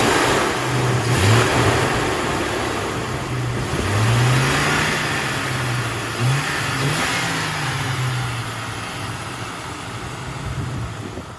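A 1999 Jeep Cherokee XJ engine revs repeatedly near the microphone, rising and falling in several throttle blips over a steady running rumble, with no talking.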